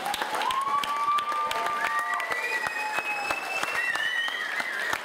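Wedding guests applaud after a best man's speech, continuous clapping with cheers and a voice rising above the crowd, sustained at moderate loudness for the whole stretch.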